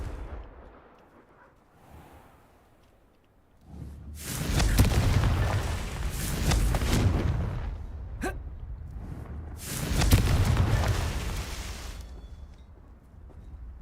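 Two heavy, rumbling blasts from the Confringo spell in Hogwarts Legacy burst out of near silence, each swelling and fading over a couple of seconds, with a sharp crack between them.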